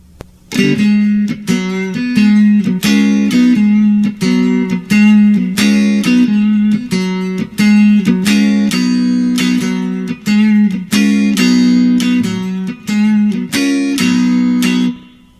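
A blues guitar riff, a chord intro, of punchy, repeated chords played in a syncopated rhythm with short muted strums between them, loud and alone.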